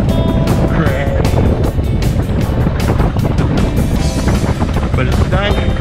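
A KLR 685 dual-sport motorcycle rolling slowly over dirt on a hot day, with a loud steady engine drone and heavy wind buffeting on the microphone.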